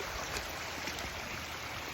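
Water flows steadily down a stream near waterfalls, a quiet, continuous rushing wash with no breaks, heard from a short distance.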